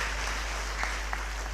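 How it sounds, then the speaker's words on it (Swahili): A church congregation at a Kikuyu Sunday service claps together, a steady wash of applause held at an even level throughout, with a low hum running underneath. "Tupigie Bwana makofi,"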